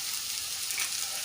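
Bitter gourd frying in a pan gives off a steady, close hiss of sizzling oil that continues unbroken without any talk.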